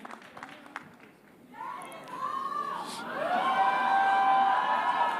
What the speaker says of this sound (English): So a big round of applause, ladies and gentlemen, for Yash.